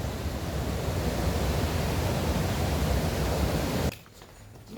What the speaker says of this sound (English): Just enjoy the sound of the running water.